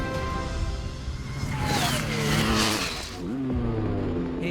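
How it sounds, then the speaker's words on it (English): A Stark Varg electric dirt bike pulls away at a drag race, its motor whine rising and sweeping in pitch as it speeds off and fades into the distance over a steady outdoor wash. "Here's Glen's view as he watches that Stark Varg disappear into the distance."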